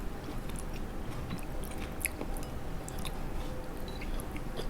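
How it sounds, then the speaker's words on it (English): Close, steady crunchy chewing of fresh vegetables such as cucumber, carrots, spinach and mushrooms in a Korean meal, with moist bites and crunches running continuously and no talk. "The veggies are very crunchy."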